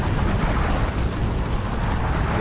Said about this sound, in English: Synapse explosions.